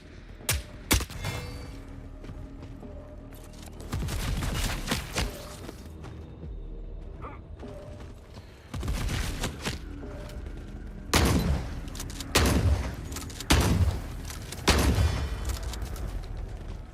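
Turret gunfire erupts in The Forever Winter video game, loud bursts of rapid shots and booming impacts arriving in several separate volleys with short quieter gaps between them.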